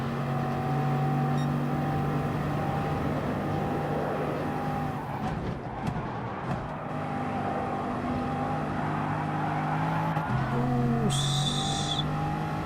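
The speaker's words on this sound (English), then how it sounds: "If you listen to the tyres, they're just constantly screaming." Car tyres screeching continuously in the Gran Turismo Sport racing game, a sustained high squeal layered over a steady engine drone through a corner, loud and unbroken for the whole stretch.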